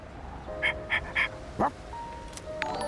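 Dog in the Persona 3 Reload video game giving several short, evenly spaced yips and barks, then a higher whimper-like bark, under quiet in-game background tones.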